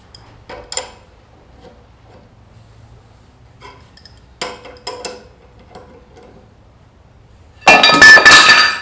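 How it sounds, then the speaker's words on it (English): A motorcycle brake caliper bracket from a Yamaha Raider drops out during a rear tire swap, giving a few light metallic clinks and ticks spread over several seconds, then a louder dense clatter near the end. "One caliper bracket right here fell out."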